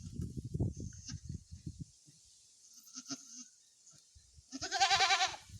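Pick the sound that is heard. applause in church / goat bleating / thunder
goat bleating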